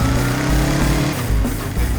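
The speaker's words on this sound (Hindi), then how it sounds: "देखिए वो किडनैपर बाइक लेके भाग रहा है।" Motorbike ridden by a fleeing kidnapper during a police chase in an action film, its engine a loud, steady drone that holds at a constant level across the clip, with no other sound over it.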